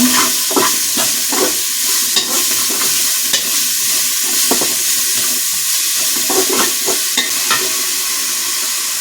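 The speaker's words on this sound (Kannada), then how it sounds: "ಹಾಗೆ ಸಬ್ಸಿಗೆ ಸೊಪ್ಪು, ಇದು ಫ್ರೈ ಮಾಡ್ಕೋಬೇಕು." Dill leaves sizzle and get stirred in a hot pan for a Sankranthi festival dish, with a continuous frying hiss and repeated scraping stirs, loud and close, with no voices.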